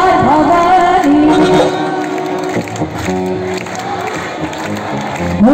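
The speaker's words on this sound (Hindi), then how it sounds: "जोरदार तालियां बज रही, जोरदार तालियां" Loud applause and cheering from a crowd at a Navratri jagran devotional night, with sustained clapping mixed with singing and music throughout.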